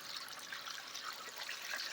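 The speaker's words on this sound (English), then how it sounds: "You see how much water is trickling down." Water trickling steadily down a Geo sluice highbanker used for gold prospecting in California, a soft, continuous hissing wash that stays even and fairly quiet throughout, with no voices.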